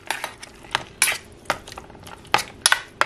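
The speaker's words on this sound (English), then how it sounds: "All right, I stirred it around." Food being stirred in a small Melissa & Doug toy metal pot, heard as scattered, close clinks and scrapes of utensil against metal, arriving in irregular bursts with quiet gaps between them.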